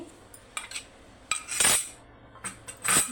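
Rice flour goes into jaggery syrup in a pot as a utensil stirs it, giving a series of metallic scrapes and clinks. The scrapes come in uneven strokes, with two longer, louder swishes standing out, and there is no talk.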